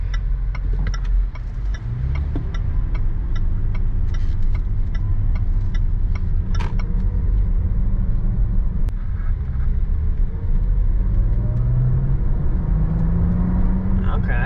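A 2020 Range Rover Sport HSE with turbocharged engine pulling under acceleration from inside the cabin, a steady deep rumble rising in pitch with road noise and a ticking turn signal, a driver talking over it.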